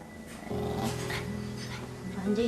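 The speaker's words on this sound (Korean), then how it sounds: "손을 내려 하자 으르렁거립니다." A small Maltese dog growls low and continuously at close range when a hand reaches toward its owner, a steady rumble with a brief rise near the end.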